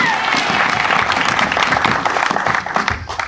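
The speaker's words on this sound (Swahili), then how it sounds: "Mpigeni Bwana makofi jamani" A church congregation at a special service of repentance claps for the Lord, loud, close and crowded, with rhythmic bursts and cheering voices mixed into the applause.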